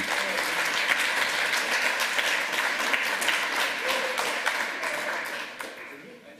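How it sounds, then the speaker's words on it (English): A conference crowd at a lightning-talks session gives a round of applause, dense sustained clapping that holds strong for several seconds and then thins and fades near the end. "another round of applause for Waz, everybody"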